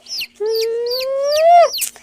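A rainbow-coloured pet chicken gives one loud, close, drawn-out rising squawk with short clucks before and after it, alone against a quiet background.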